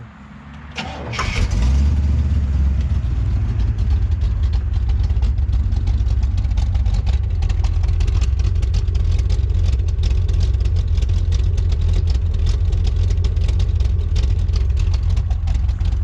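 A 1966 Oldsmobile Toronado engine turns over and settles into a loud, steady idle with a deep, continuous rumble that holds throughout.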